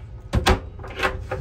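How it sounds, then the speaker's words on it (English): A cabin door on a 2006 Hylas 54 sailboat closes and opens nearby, two quick thuds followed by softer sliding and latching sounds. "close this door, open this door"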